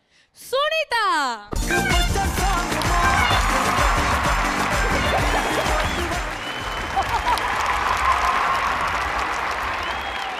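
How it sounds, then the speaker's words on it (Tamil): Loud, sustained audience applause at an awards show, swelling after a short burst of a voice and continuing steadily to the end. "ஒரு பலத்த கைத்தட்டலோட லெட்ஸ் வெல்கம்"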